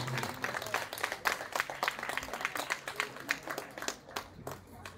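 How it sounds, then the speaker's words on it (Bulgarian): Audience applauding a cycling champion at a Tour of Bulgaria stage finish in Gabrovo, a steady patter of crowd clapping at moderate distance, with no voices over it. "Да чуем вашите аплодисменти"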